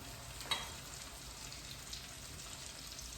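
Salmon patties frying in a pan give a steady, soft sizzle and crackle with a brief louder spatter near the start, heard close with no talking.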